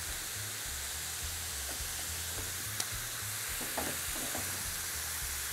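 Carrots and onions frying in a pan, a steady close sizzle with a few small pops and scrapes, no voices.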